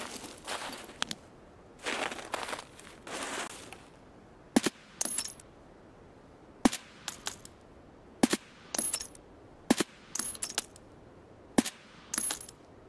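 Gunshots in the video game Escape from Tarkov: sharp cracks, single and in quick pairs, fired every second or two over a quiet outdoor background, with a few softer shuffling sounds early on.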